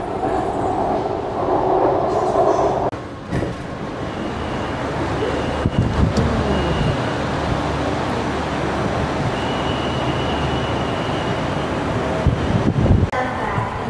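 A Bangkok MRT metro train running, with a loud steady rumble and rattle of the carriages and wheels on the track, swelling and easing over a long stretch with little talk.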